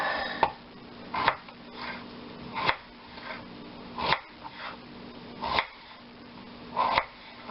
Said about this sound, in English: Now that my potatoes are peeled, I get to chop them all up.